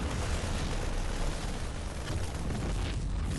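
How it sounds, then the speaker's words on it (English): Buildings explode in a StarCraft match, a dense, continuous rumbling blast of broadband noise that stays loud and unbroken for a few seconds with no voices over it. "I just cannot get over that explosion"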